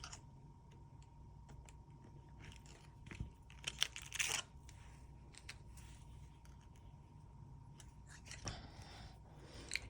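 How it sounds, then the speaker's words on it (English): Scissors cut through a canvas lining piece for a crocheted bag, giving faint, close snips and fabric rasps in small bursts over a low background hum. "it is little bit hard to cut the canvas piece"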